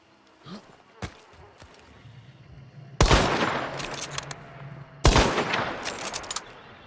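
Mosin sniper rifle spark shots fired in Hunt: Showdown: a faint early crack, then two loud, sharp reports about two seconds apart, each trailing a long ringing echo.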